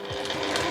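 A home sewing machine stitches a bicolor convenience-store-size tote bag in one short burst, its steady motor whir and needle chatter held close and even throughout, with no voices.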